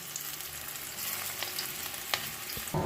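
Bora fritters fry in hot oil, a steady close sizzle with a few pops and faint stirring clinks, ending in a louder burst of bubbling.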